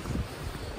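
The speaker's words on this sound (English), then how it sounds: "Measured a wind gust of 102 miles an hour." Strong wind roars across an exposed mountain ridge on Grandfather Mountain, North Carolina, during a windstorm with gusts near 102 mph, a steady loud rush of buffeting and microphone wind noise with heavier low gusts surging through.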